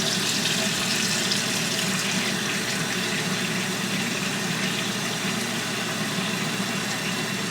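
Tap water pouring steadily into a pot of peeled potatoes, a constant broad hiss and splash, close and even, with no break.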